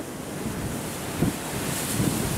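Ocean waves pounding a crumbling, muddy sandstone cliff: steady roaring surf with wind buffeting the microphone, and two heavier crashes standing out near the middle and end, with no voices.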